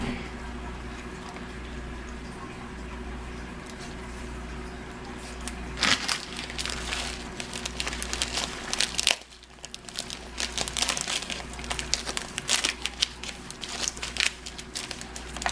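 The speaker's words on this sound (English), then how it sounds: "All the air out of it, and we'll wrap it up and go ahead and tape it." A plastic bag is wrapped up and taped after skunk trapping, giving close crinkling and crackling that begins sparse and grows denser, with a brief lull and then more bursts of rustling over a low steady hum.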